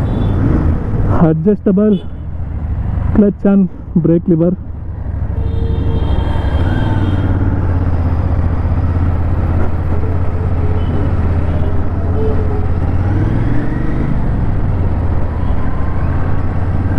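A 2025 Royal Enfield Interceptor Bear 650 scrambler motorcycle, with an engine the same as the Interceptor 650, idles in a steady low rumble close by. Someone talks briefly over it at first, and then the engine runs on alone.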